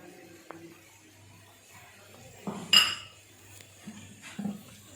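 A spoon stirring almonds and raisins into carrot halwa in a pan, heard as scattered light clinks and scrapes against metal, with one sharper clank near the middle, fairly quiet and without talk.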